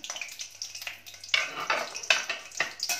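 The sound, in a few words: green chillies frying in hot oil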